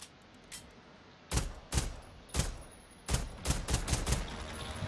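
Gunfire from the video game Generation Zero comes as separate sharp shots, a few spaced apart and then a quick cluster near the end, over a quiet background.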